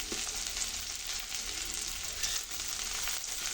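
Dried red chillies sizzle and crackle in hot oil for a curry of drumstick and jackfruit seeds. The frying is a steady, close hiss with no talking.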